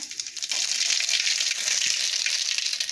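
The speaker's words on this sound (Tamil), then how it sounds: "கீரைக்கு கடாய் வச்சுருக்கேன், எண்ணெய் ஊற்றிருக்கேன், இந்த கடுகு போடுறேன்." Mustard seeds spluttering in hot oil in a kadai, a steady bright crackling sizzle that holds loud and continuous after a quieter start, close up with no talk.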